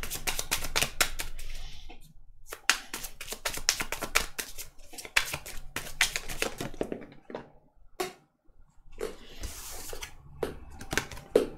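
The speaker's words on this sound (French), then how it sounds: "On va tirer 3 cartes. Juste 3 cartes." Tarot deck shuffled and cut by hand, rapid papery riffles and flicks in busy bursts with brief pauses, close and fairly loud, no voices.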